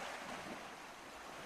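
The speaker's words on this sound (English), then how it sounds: "water creeps over Arctic shores like an overflowing bathtub" Sea water washing over Arctic shores, a steady, even wash of surf with a wind-like hiss running unbroken throughout, fairly faint and with no voices.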